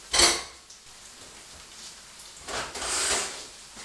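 Small gnocchi are tossed in a pan over a high flame, giving two bursts of sizzling and scraping metal with clinks of cookware in a quiet kitchen.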